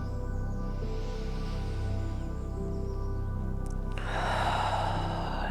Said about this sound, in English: Taking a deep inhale and releasing a full exhale.